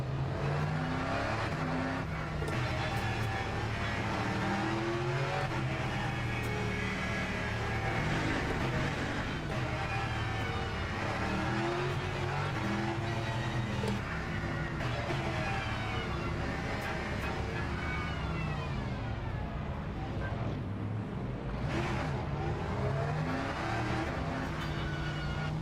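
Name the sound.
race cars starting in video game Le Mans Ultimate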